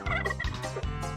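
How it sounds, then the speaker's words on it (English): A turkey gobble serves as the penguin sound in a Gex video game demo, a rapid burst of three warbling gobbles, close and clear with no talking. "That is the sound a turkey makes."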